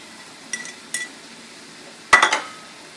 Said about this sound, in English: cook and stir that until your vegetables are tender